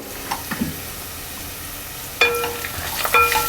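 Turmeric and homemade masala frying in a pan over a low gas flame, a gentle continuous sizzle broken by clinking scrapes of a spoon stirring against the metal pan.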